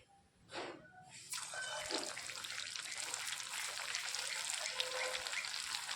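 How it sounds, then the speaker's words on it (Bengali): Puffed rice snacks deep-frying in hot oil, a steady dense crackling sizzle that swells after a soft start and holds continuously, close and fairly loud, with no talking. "বাকি জলখাবারগুলোকেও আমি সেম একইভাবে ভেজে নেব"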